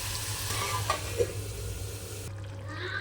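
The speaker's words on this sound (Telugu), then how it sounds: "మటన్ వేసి కలుపుకొని 5 నిమిషాలు ఉడికించుకోవాలి." Mutton pieces frying in a pan for mutton curry and being stirred, with a steady close sizzle and a couple of light utensil knocks, with no talking.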